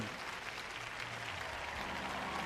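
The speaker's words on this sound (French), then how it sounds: "On m'applaudit beaucoup ce soir" An audience at a church ministry gathering claps steadily, a continuous wash of applause heard at moderate volume from a distance with a faint murmur underneath.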